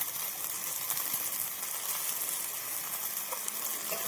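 Potatoes stir-fried in a pan for a cabbage-fritter potato curry give off a steady, even sizzle and hiss, close and continuous with no pauses or talk.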